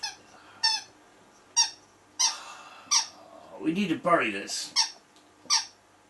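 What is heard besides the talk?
dog squeaking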